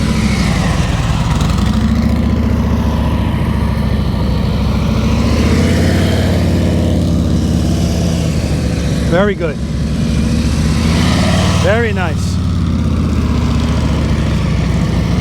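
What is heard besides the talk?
motorcycle riding at slow speed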